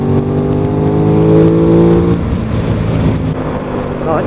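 A Ducati Supersport S or Aprilia RS 660 motorcycle engine drops a gear on the road, its loud steady drone falling away into lower, rougher engine noise as the revs change, heard close and alone.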